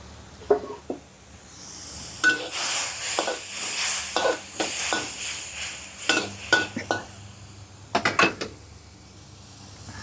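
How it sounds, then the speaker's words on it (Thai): Pork stir-fried in a pan, loud close sizzling under repeated scraping and clinking of a utensil against the pan in quick irregular bursts, with no clear speech. "ผัดหมูให้สุกเลย"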